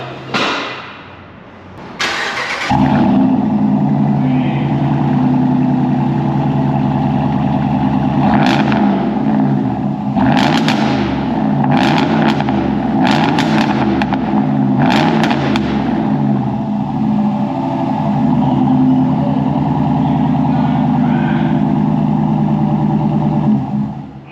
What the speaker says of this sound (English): This is Borla Attack exhaust on. First startup.